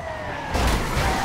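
Ambulance siren in the GTA V video game, a continuous wailing tone under a steady broadband rumble of driving that swells louder about halfway through.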